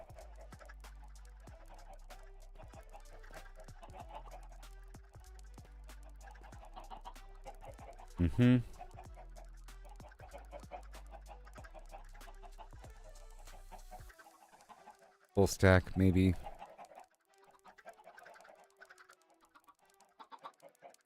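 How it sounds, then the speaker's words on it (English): Chickens in Minecraft give repeated short clucks in an irregular rhythm, along with game effects and two loud bursts. Someone talks briefly over them. "All those chickens over here, they can find partners, maybe"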